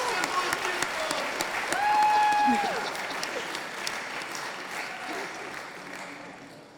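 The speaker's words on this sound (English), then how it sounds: "Sounds like you brought your own cheering section." A crowd at a university startup pitch night applauds with dense, continuous clapping and a few whoops and cheers. The applause swells midway and then fades out toward the end.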